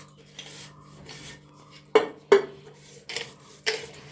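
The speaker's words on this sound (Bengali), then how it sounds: "এবার বাসন টাসন মেজে নিয়ে" Pots, pans and utensils being scrubbed and washed after cooking in a home kitchen, a few soft rubbing passes broken by two sharp metallic clanks, close up over a low background hum.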